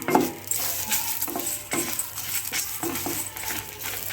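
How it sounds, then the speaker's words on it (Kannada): A metal spoon stirs chillies, grated coconut and tamarind in a hot pan with the stove off, giving repeated scraping strokes and a soft residual sizzle, close and steady with no voices. "ಇದಕ್ಕೆ ಒಂದು ಎರಡು ಸಾರಿ ಹೀಗೆ ಚೆನ್ನಾಗಿ ಫ್ರೈ ಮಾಡ್ಕೋಬೇಕು"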